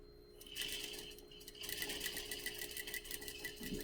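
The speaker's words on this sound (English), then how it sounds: "I'm going to do a small back stitch there." Sewing machine making a short back stitch on a fabric face mask, a close, steady mechanical whirr that starts after a brief pause and keeps running with a fast even rhythm.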